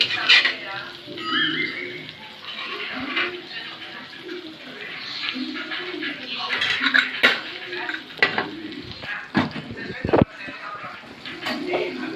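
Mutton fry is stirred and tossed in a hot pan, with repeated close metal scrapes and clanks over a steady sizzle while people talk throughout, plus a few sharp knocks of the utensil against the pan.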